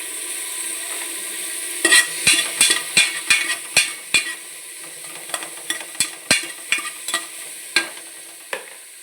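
Ground onion paste frying in a pan for egg biryani, a soft steady hiss broken by a run of sharp scraping strokes of a spatula against the pan, close and fairly loud, no voices.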